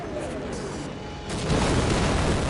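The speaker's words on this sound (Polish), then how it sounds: "Jakie wybuchy, co jest?" Explosions in the Half-Life video game boom over steady roaring noise and swell louder midway, with someone speaking over the din.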